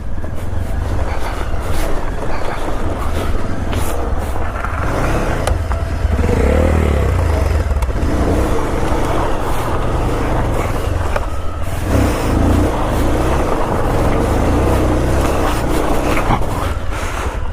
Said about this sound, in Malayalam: ആ നമുക്ക് ഡ്രിഫ്റ്റ് അടിക്കാം.